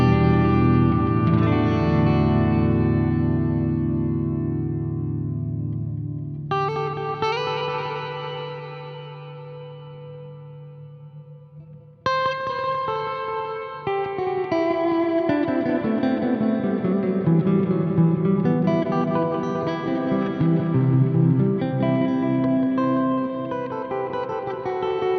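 Guitar played through a Chase Bliss Meris CXM 1978 reverb pedal on its hall setting, sustained chords blooming into long, washy tails, loud and alone, with no talk.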